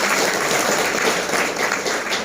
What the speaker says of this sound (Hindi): शाबाश, ताली बजाओ भाई साथ में।